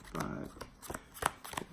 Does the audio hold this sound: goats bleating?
no